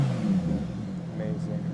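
A Lamborghini Huracan Tecnica's V10 exhaust in sport mode gives a loud, steady, deep engine rumble throughout, with voices talking over it.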